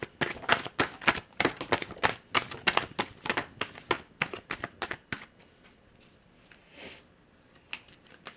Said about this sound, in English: I'm going to start pulling cards.